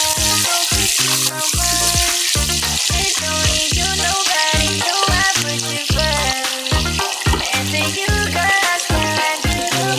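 Onions frying in a pan until golden brown for chopsuey, a loud continuous sizzle under a steady rhythmic pattern of clatter or stirring throughout.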